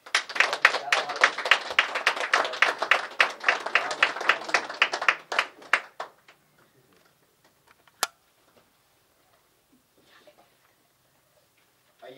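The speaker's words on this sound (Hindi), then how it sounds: "ताली बजाएंगे" Audience at a church meeting in Ambikapur claps in a dense burst of applause for about six seconds, then it stops abruptly, leaving near silence with one sharp tap.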